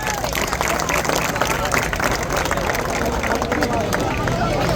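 Crowd applause and clapping at a Govinda human-pyramid event in Pen, Raigad, for a boy Govinda who climbed without a harness, a dense continuous roar of clapping and cheering with voices throughout.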